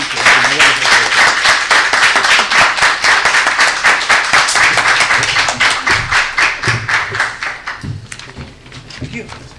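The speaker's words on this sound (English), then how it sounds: "let's have a hand of applause for our speakers" Loud, dense applause from a conference audience at an International Uyghur Studies event, sustained for several seconds before thinning into scattered claps near the end.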